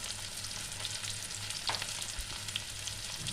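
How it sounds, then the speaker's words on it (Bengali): Sliced onions fry gently in a pan of oil, making a steady, soft, close sizzle with a faint crackle and one brief stir partway through, with no one talking. "পেঁয়াজটা আমি হালকা করে ভাজতে থাকবো।"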